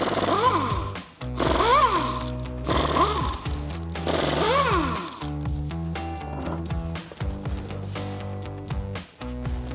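An impact tool on a Jeep Gladiator JT, spinning off aftermarket lug nuts with a spline key and 22 mm socket. It gives several loud, close bursts of hammering buzz that rise and fall in pitch, with short pauses between bursts.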